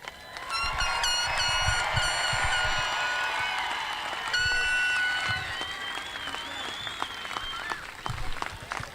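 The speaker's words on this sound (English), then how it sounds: "Let's give them another round of applause." A high school graduation audience applauds steadily from start to finish, a dense wash of many hands with a few whistles and cheers rising above it.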